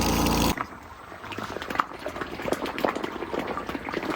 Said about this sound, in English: So it's the water going back in from the ground, not from this house.